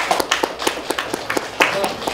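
Scattered applause for donors at a charity fundraising event, a few sharp clap bursts with uneven rhythm, moderately loud and fairly close, with some voices faintly underneath.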